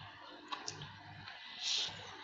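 Mouse clicks while working in Revit software: two quick, sharp clicks close together, then a brief softer rustle, with no speech over them.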